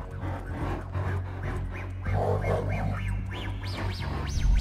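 Chop the dog in GTA V panting and sniffing, quick rhythmic breaths rising toward the end, close up with a low steady background hum.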